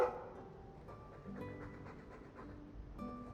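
A dog in the video game Dragon Age II pants softly in quick, rhythmic breaths beneath a faint, low in-game background hum, quiet and close.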